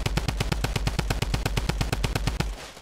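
Tommy gun firing in a video game, a loud rapid sustained burst of evenly spaced close shots lasting over two seconds before cutting off.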